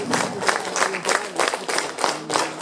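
Audience applause at a literary event, a brief burst of irregular clapping from a modest crowd, fairly close and lively, rising and falling in quick pulses.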